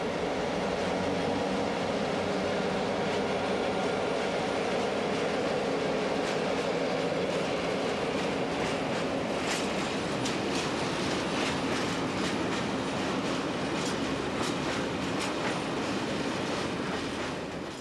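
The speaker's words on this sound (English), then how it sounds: "Although by no means necessary for this comparatively modest load, all three locos are in fact powered and working." A train hauled by three powered locomotives on a secondary cross-country line in northern Belgium rolls past with continuous wheel clatter, rail rumble and occasional squeal, loud and steady throughout.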